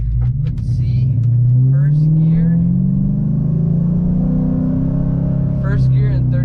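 Car fitted with a 6.1 ported SRT intake manifold running loud and close, its deep engine rumble rising steadily as it accelerates, with a voice talking over the engine.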